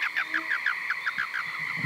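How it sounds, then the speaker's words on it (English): Male American toads give release call chirps, a quick run of about ten short, evenly spaced chirps over a steady background trill from a nearby toad chorus. "If you listen, you can also hear release calls."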